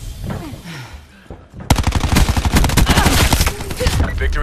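Automatic gunfire in the Call of Duty Black Ops 4 video game erupts after a brief quieter moment, a rapid rattling burst of shots that continues loudly, with faint game voice beneath.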